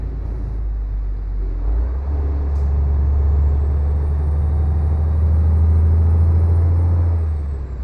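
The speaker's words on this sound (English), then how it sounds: "I can hear that truck." Truck in Euro Truck Simulator 2 with a loud, steady engine drone and rumble that swells and holds through the whole stretch, with a brief hiss-like burst in the middle, close and continuous.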